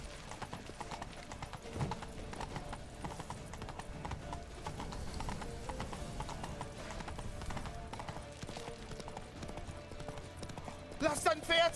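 Horse hooves clip-clop in the video game The Witcher 3. The steps are quiet and uneven, with voices speaking over them and a brief louder burst near the end.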